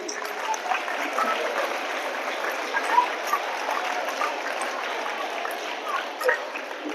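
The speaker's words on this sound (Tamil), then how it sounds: "நல்லா கைத்தட்டேன் அந்த பையனுக்கு" Steady applause from students at a school event, a dense even patter of clapping that holds for several seconds without a break.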